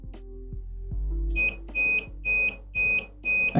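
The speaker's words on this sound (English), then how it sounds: "So the opto is at least beeping." An optocoupler on a CAN add-on electronics board gives a run of five short, evenly spaced high electronic beeps after a few soft clicks and thumps. The beeps are loud and close on a quiet bench.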